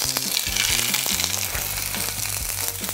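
Sea bream fillet seared skin-side down in a well-heated, oiled frying pan, a dense close sizzle with crackling pops running throughout and low clinking and tonal kitchen sounds underneath. No talking.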